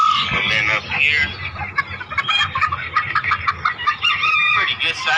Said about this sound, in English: pretty good size for one rooster